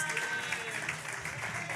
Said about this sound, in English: turn and look at that camera back there of all of our Facebook and IG friends who are not in the building and clap it up for them